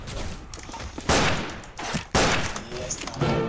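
Pistol gunfire in the video game Fistful of Frags, two sharp, loud shots about a second apart with a third near the end, with faint background sounds between them.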